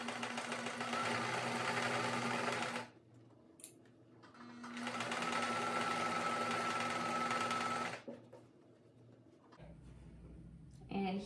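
A sewing machine with a 1/4 inch foot stitches fabric for an enamel pin display banner in two long steady runs separated by a pause, close and fairly loud, with soft handling noise afterward.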